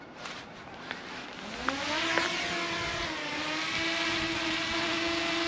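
A DJI Mini 2 drone spinning up and taking off outdoors, its motors rising from quiet into a steady, close, high whine that climbs in pitch and then holds level, with no talking.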